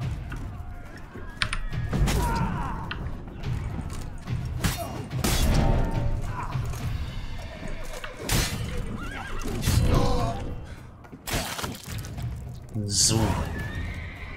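Horses whinny loudly several times in The Witcher 3: Wild Hunt Blood and Wine, mixed with game clatter, thuds and hoof sounds, while someone talks over much of it.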